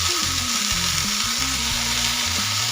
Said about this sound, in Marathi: आपण स्वच्छ धुवून घेतलेली भाजी आहे ना ती आता तेलामध्ये टाकून छान परतून